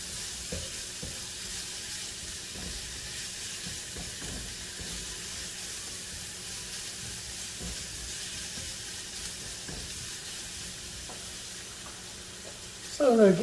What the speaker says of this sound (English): I'm gonna add my bacon in there.